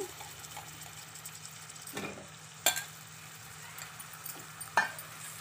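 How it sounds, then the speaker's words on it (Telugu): Brinjals frying in a pan for brinjal potato curry give a faint, steady sizzle, broken by a few sharp clinks of a spoon against the pan. "ఇది కొంచెం ఫ్రై అయ్యాక ముందుగా మనము వంకాయలను యాడ్ చేసుకుందాము."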